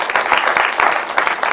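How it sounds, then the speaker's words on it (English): Church congregation clapping hands in praise during a Wednesday night service, a steady dense patter of many hands, close and loud, with faint voices mixed in. "Can we give the Lord a hand clap of praise?"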